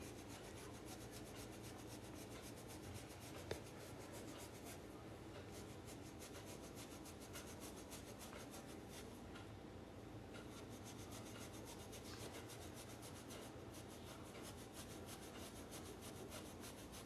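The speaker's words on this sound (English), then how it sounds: "So I start doing the polishing with this steel wool." A silver round is rubbed with fine 4/0 steel wool, producing a steady, faint scratchy rasping that continues evenly throughout.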